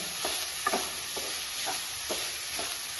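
Sugar and grated coconut are dry-roasted and mixed together in a pan. About six evenly spaced scraping strokes sound over a soft, constant hiss, close and fairly quiet.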